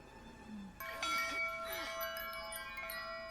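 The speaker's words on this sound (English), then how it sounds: "he's gonna ring the bell this time?" A bell rings in an animated What If...? episode set in an 1872 frontier town, struck once and then ringing on with a sustained metallic tone and overtones that decay slowly over a faint background.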